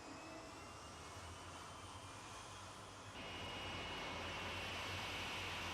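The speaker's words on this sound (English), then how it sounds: "the jet cars moved forward and up to the staging lights" Jet dragster engines at a 1986 Santa Pod drag race roar steadily as the cars creep up to the start line, a loud turbine whine that swells sharply partway through and stays high.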